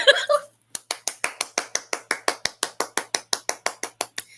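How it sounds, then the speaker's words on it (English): A single pair of hands claps in a fast, even rhythm of about twenty sharp claps, loud and close, right after a short burst of voice; it is one person clapping, not a cheering crowd. "The crowd goes wild."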